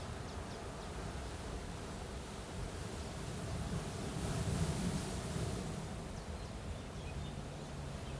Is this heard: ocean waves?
yes